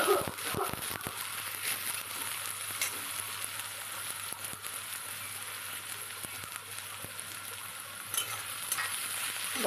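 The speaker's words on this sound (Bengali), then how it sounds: "একটু ভালো করে নেড়ে নিচ্ছি পেঁয়াজটা" Onions frying in oil and being stirred in a pan, a continuous close sizzle with scattered scraping clicks from the stirring, steady throughout.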